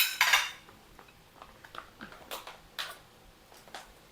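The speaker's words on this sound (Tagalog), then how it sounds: "Kukuha na lang ako dito sa aking plato." Serving utensils scraping and clinking against a plate while a baked sushi dish is scooped out at home, with one sharp clatter at the start followed by several lighter taps and scrapes close by.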